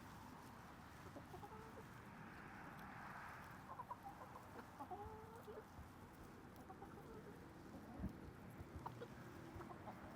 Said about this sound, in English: I have a couple of chickens here that I'm not sure what breed they are